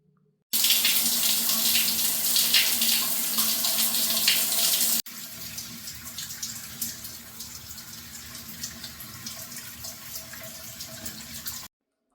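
Tap water runs into a flower vase to change its water, a steady close rush that starts loud and then drops to a softer, fuller flow before the tap shuts off.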